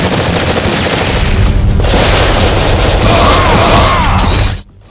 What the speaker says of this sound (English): Gunplay in Ghost Squad is what you would expect from a game like this